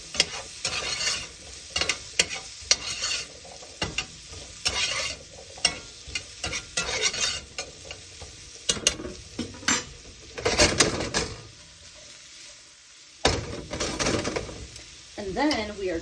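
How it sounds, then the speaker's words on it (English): Sweet potatoes stirred in a pan with salt and pepper, a utensil scraping and clanking against the metal in irregular bursts over a low background sizzle, with brief pauses between strokes. "And then mixing that around."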